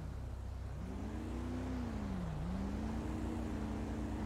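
A car drives up in a GTA roleplay game: a steady engine drone that rises, dips and levels off as it closes in, heard alone with no talking.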